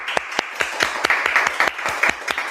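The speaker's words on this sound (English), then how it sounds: "maybe we can all give a round of applause for Donna K." Audience applause greets Donna K. Robinson at an online event, a thin, uneven patter of separate claps close to the microphone, heard alone.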